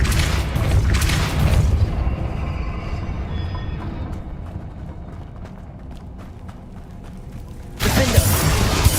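The Depulso force spell is cast in the video game Hogwarts Legacy: a loud, booming burst opens, fades into quieter rumbling and clatter, then a second heavy burst erupts near the end.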